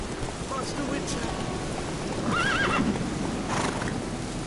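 A horse in The Witcher 3 lets out a wavering neigh midway through, over a constant rain-like hiss and faint hoof clatter, with game ambience running the whole way.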